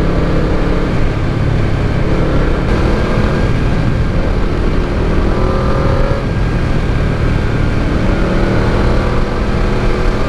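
A Yamaha VMAX motorcycle engine drones loudly and steadily under acceleration at speed, a dense continuous roar mixed with wind rush that holds the whole time with no talking over it.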